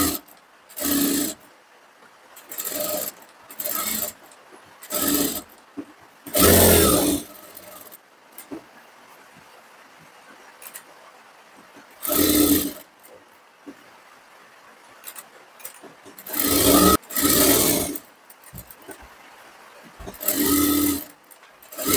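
Sewing machine stitching a katori blouse, joining lining and main fabric, in repeated short bursts of a few seconds each with quiet pauses between, fairly close.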